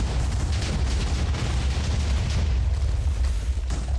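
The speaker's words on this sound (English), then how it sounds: "there goes the explosion" Explosions of TNT and the Wither in the Minecraft video game: a loud, continuous, rumbling blast that fills the whole moment with dense booming and crackling, with no pause.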